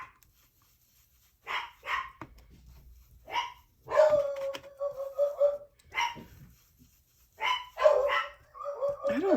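A dog barks repeatedly at close range in irregular bursts, with some whining yips between, and quiet stretches in between.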